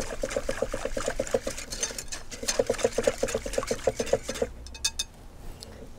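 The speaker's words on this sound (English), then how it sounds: "Go ahead and use our whisk." A whisk beats flour into a yeast mixture in a bowl, with a quick, steady clatter in short rhythmic bursts, a brief pause, then more rapid strokes before it trails off.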